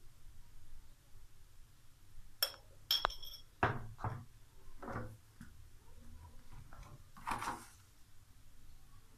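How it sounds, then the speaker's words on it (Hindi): A spoon clinks and scrapes against a bowl while mixing chana chaat with chaat masala, a few distinct sharp taps and scrapes over a quiet low hum. "चाट मसाले को अच्छी तरह मिक्स कर लेंगे।"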